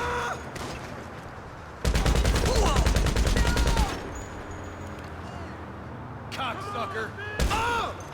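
Gunfire in the GTA Online video game: loud bursts of rapid automatic shots in several spells, the longest lasting about two seconds, with someone talking over and between them.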